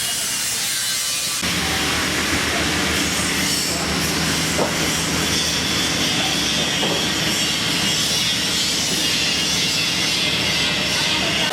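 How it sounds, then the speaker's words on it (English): Loud, continuous roaring hiss of abrasive blasting inside the tanks of the submarine HMS Alliance, starting abruptly and persisting steadily, with faint intermittent clanks. "you can hear behind me the noise of the blasting"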